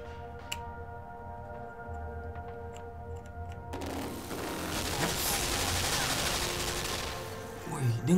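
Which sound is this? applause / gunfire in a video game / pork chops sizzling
gunfire in a video game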